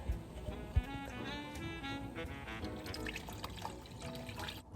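Vegetable broth pours into a pot with roasted tomatoes, making a soft, continuous liquid trickle and splash close by at low volume.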